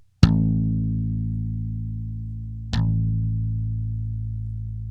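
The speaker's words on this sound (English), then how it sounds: "Now when you slap the bass, it's going to sound something like this." Two slapped electric bass notes, each a sharp percussive thumb attack followed by a long ringing sustain, the second struck about two and a half seconds after the first, played alone.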